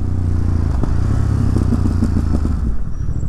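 Ducati motorcycle with a decatted exhaust, ridden on a New York City street: a loud, steady engine drone with rough clattering pulses runs throughout, close and continuous with no talking.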